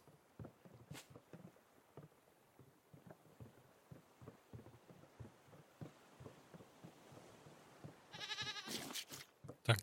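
Goat bleating inside the survival game Raft, with repeated short cries and game sounds over a soft busy background, growing louder and harsher toward the end.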